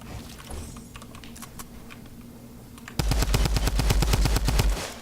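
A Fortnite match during a Summer Skirmish tournament: scattered single shots and clicks give way to a loud, rapid burst of automatic gunfire that runs steadily for nearly two seconds.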